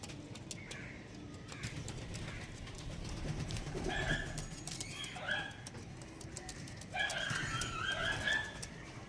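A breeding pair of Kalshira and Fulshira tournament pigeons coos in soft, repeated bursts with a few sharper bird calls, fairly close and steady against a low background rumble.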